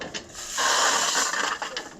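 A hand ratchet clicks steadily while turning a 19 mm nut on a Camaro dirt track race car, a sustained buzzing rasp of close, fairly loud pawl clicks with brief pauses.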